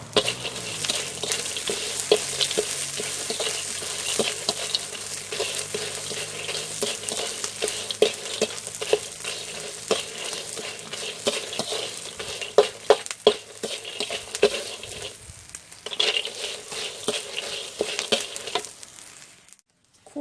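Egg mushrooms are dry-roasted with a little salt in a pan and stirred continuously: a loud, dense sizzle runs throughout, broken by frequent scraping clicks from the stirring that briefly thin out near the end.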